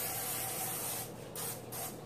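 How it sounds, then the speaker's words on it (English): Nonstick cooking spray hisses onto a plastic container in a kitchen, a close, loud continuous spray with two short breaks near the end. "nonstick spray on a plastic container"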